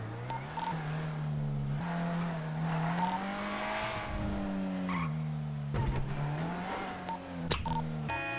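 A car in the GTA RP game revs loudly and skids, its engine pitch rising and falling with tire squeal and sharp impact bursts as it is wrecked, close and continuous without talk.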